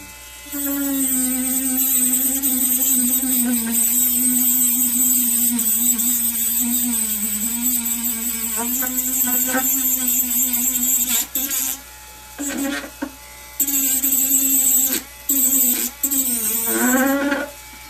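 Continuous high buzzing whine of a small rotary grinding tool smoothing parts for a homemade compact table saw, steady and close for most of the time, then broken into short on-off bursts toward the end.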